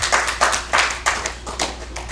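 A handful of audience members at a comedy show clap in a sparse, uneven burst of about six loose claps, close and fairly loud.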